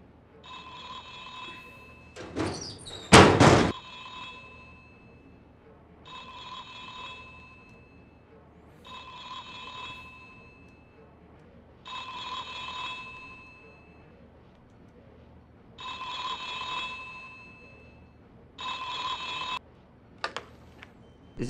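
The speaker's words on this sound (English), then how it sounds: "Ah! That's your phone." A phone rings repeatedly in The X-Files video game, six or seven evenly spaced bursts of bright electronic ringing with pauses between, loud and close, broken briefly by a sharper clattering noise near the start.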